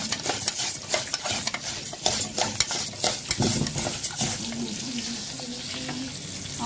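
Chicken panè frying in a pan at home, stirred with a utensil in scraping, clattering strokes over a steady crackling sizzle, close and moderately loud, with no talking.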